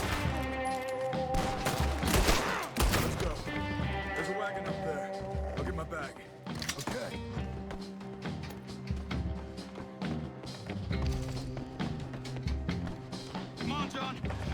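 Gunfire and a shootout in the Red Dead Redemption 2 video game, with repeated sharp shots among game noise and music. Character voices talk throughout.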